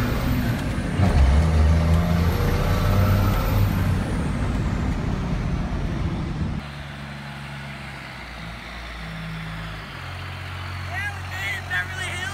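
Heavy road traffic in Los Angeles on the way to Beverly Hills, with a loud truck engine and hissing air brakes close by, then a steadier lower rumble of passing vehicles as a voice talks over it.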